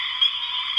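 A pine barrens tree frog calls nearby, a steady buzzing note held through the whole brief moment, loud and alone with no voices.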